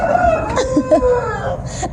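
A pet rooster crows at a Pakistani family home, a drawn-out tonal call rising and wavering over about two seconds, fairly close and loud against a busy household background.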